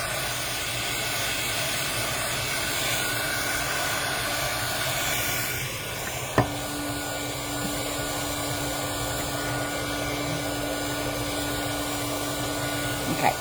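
A heat tool drying reactive ink on paper blows a continuous loud whirring hiss throughout, with its tone shifting slightly midway and a single sharp click, no voices.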